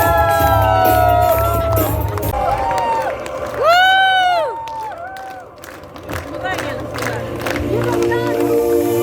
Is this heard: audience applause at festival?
yes